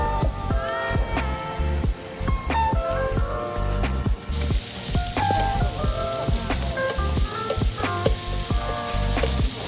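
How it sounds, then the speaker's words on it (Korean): Pork belly sizzling on a grill together with kimchi and bean sprouts at a Korean barbecue restaurant, a steady loud frying crackle with frequent sharp pops and clinks of tongs throughout. "삼겹살과 제일 잘 어울리는 김치와 콩나물을 같이 구워 주었고"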